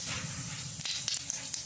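Cumin and mustard seeds sizzle in hot oil for a spicy mango curry tempering, a close, continuous hiss broken by a few sharp crackles and pops toward the end.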